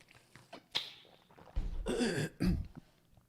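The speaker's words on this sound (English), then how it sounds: "I'm sorry if I keep coughing, but I have like the driest throat" A few dry, raspy coughs, close by, with throat-clearing and short breathy bursts spread across a couple of seconds.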